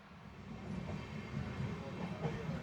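Matsyagandha Express LHB train running into the Bandur tunnel on the Konkan Railway, a low rumbling rail roar with faint rhythmic wheel clatter, steady and moderately quiet.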